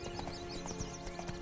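Horse hooves galloping in the Witcher 3 video game: a quick, steady clip-clop of hoofbeats over a low ambient game backdrop, faint and brief.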